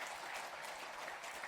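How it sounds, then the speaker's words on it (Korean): Congregation clapping in a church during a Sunday worship service, a steady, fairly quiet wash of applause with no talk. "힘있게 사역하시도록 우리 뜨겁게 박수를 한번 더 격려하겠습니다."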